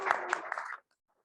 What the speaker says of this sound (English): let's give a round of applause in thanks